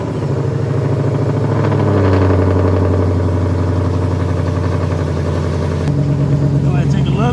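A 2012 Ford Mustang GT engine idling in a steady, loud, low rumble during an oil change, with a brief shift in tone near the end and a voice talking over it.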